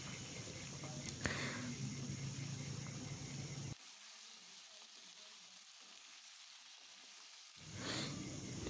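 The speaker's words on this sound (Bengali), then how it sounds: "তেলটা গরম হয়ে গেছে আর দিয়ে দিচ্ছি এতে কেটে ধুয়ে পরিষ্কার করে রাখা আলুর টুকরোগুলোকে।" Potato pieces fry in hot mustard oil in a wok, giving a faint, even hiss that cuts out for several seconds midway and then returns.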